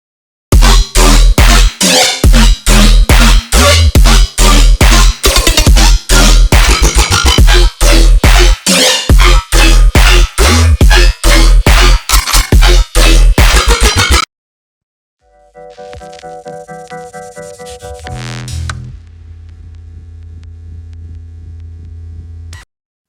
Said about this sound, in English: we are going to find out how to make classic, quite commonly used FLANGED RIDDIM bass